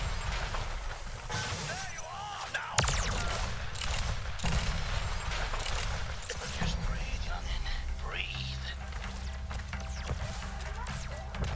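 Gunfire in the space-western strategy roguelike Wild Bastards: repeated sharp shots and bursts ring out over an ongoing game soundtrack, with a person talking throughout.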